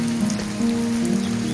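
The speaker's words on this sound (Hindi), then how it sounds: "बारिश हो रही है" A hard overnight downpour keeps up an even, constant hiss of falling water over a faint steady drone, loud and uninterrupted, with nobody speaking.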